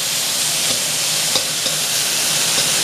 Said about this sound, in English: go ahead on and put our shrimps in here. Just until they turn pink.